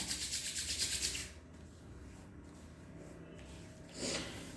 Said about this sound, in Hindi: नाउ रब बोथ द पाम,